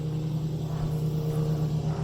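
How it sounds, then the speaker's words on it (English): A small airplane passes overhead, a steady low droning rumble that holds at an even, moderately loud level throughout with no voices. "Got a little airplane action going on above me here."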